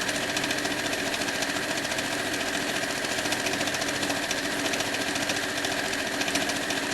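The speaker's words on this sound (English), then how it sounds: "I'm going to start sewing about a 1/4 inch from the end" Sewing machine running steadily as it stitches binding onto a quilt, a continuous dense mechanical whir with rapid needle chatter, close and even throughout with no talking.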